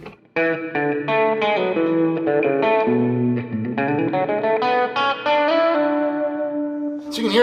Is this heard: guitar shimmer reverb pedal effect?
yes